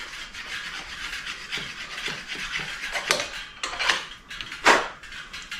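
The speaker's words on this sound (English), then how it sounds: "So this way, we're gonna sand it down in there." Hand sanding of a headlight fitting during installation, a run of soft, scratchy rubbing strokes followed by a few sharper, louder rasps near the end, close by in a quiet space.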